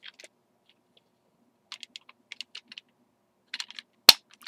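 Plastic toy pieces on a transforming robot toy clicking into place, a few small sharp clicks in scattered groups, with one louder snap near the end.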